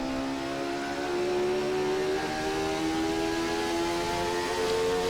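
Jordan 191 Formula 1 car engine in a racing game, held at full revs with a steady, high whining drone that holds its pitch and rises slightly, loud and continuous for five seconds with no talking.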